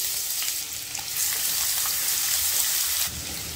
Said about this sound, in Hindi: प्याज को हल्का ब्राउन होने तक भून लेंगे